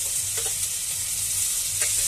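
A ginger, garlic, onion and green chili paste fries in a wok or kadai, giving a loud, steady sizzle throughout with a few faint scrapes as it is stirred.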